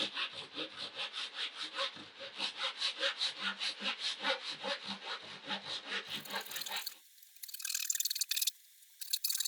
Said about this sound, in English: This is a Japanese style pull saw that has a coarse side and a fine side.